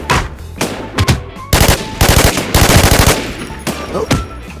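Rapid automatic gunfire from the Infestation shooter game, loud and close, in several sharp bursts of shots with short gaps between them.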